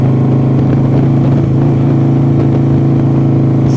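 A motorcycle engine droning steadily and loudly while riding, with an even, constant hum and no change in pace throughout.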